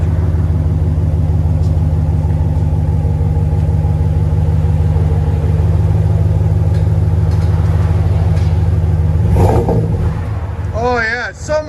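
A 2020 Dodge Ram with the 5.7L V8 and Flowmaster Super 10 dual exhaust rumbles steadily with a deep, loud, close drone, revved lightly before dropping off near the end, when a voice briefly speaks.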